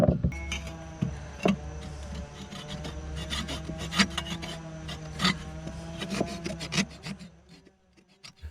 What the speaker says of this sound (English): I did have a pull saw that would cut them flush